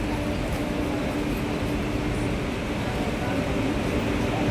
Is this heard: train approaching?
yes